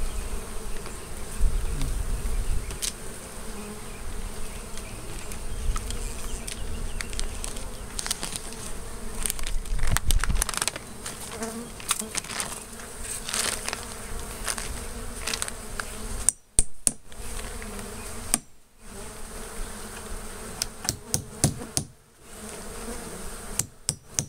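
Bees buzz densely around a hive beneath an elevated house, a steady swarming drone close by, interrupted near the end by several sharp knocks and brief dropouts.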